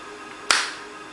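A single sharp finger snap from a hypnotist during a stage hypnosis session, one crisp close crack that decays quickly into a quiet room.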